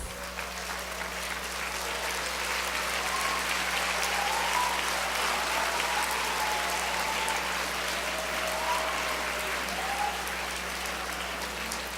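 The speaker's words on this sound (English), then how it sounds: "please rise and let's give all our best to our parents and give them a round of applause" Graduation audience at a university commencement applauds parents, a steady, fairly faint wash of clapping from a large hall that holds evenly throughout.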